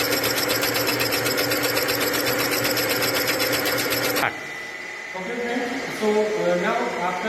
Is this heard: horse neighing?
no